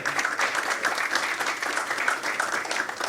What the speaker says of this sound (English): So we'll give them a round of applause for that too.